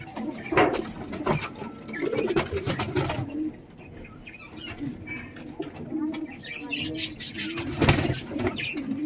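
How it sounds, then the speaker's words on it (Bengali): A pigeon coos nearby in soft, repeated throaty calls, with human voices talking intermittently around it. "দেখো, এই সেই পায়রাটা এসছে আমাদের বাড়িতে।"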